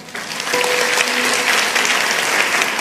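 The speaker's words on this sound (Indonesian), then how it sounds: "Kasih tepuk tangan untuk Tuhan" A church congregation claps during a sermon service, loud and dense applause from a large crowd throughout, with a faint held tone and brief voice sounds mixed underneath.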